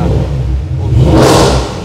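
A Lamborghini engine revs hard as it fires up, a loud, close, swelling roar that rises in pitch and holds briefly before easing off, with no talking.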